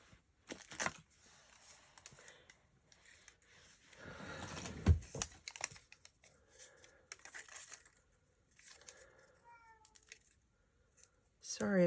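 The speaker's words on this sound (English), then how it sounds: "Sorry if you hear my cat crying there." A house cat cries and meows faintly in short, intermittent bursts from somewhere nearby, mixed with crafting noises and occasional rustles while a person talks.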